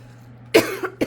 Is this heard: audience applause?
no